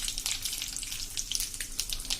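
Cumin, curry leaves and sesame seeds crackling in hot oil as tempering for instant bottle gourd handvo, a quiet close sizzle scattered with rapid sharp pops.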